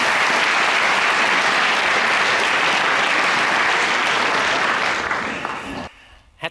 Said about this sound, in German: Vielen Dank für den Applaus.